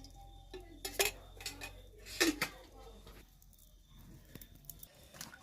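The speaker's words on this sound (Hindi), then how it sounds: "अब हमने इस चूल्हे पर फिर से फ्राइंग पैन रखा और हमने इसमें तेल भी डाला।" A frying pan is set on a stove and oil is added, bringing a couple of sharp metallic clanks and clinks followed by quieter handling, with talk over it.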